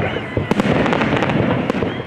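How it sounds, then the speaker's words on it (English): Dense, sustained crackling and booming of fireworks launched from a barge, with several sharp bursts standing out over a continuous loud roar. "At precisely 10 p.m., the first firework was launched from the barge."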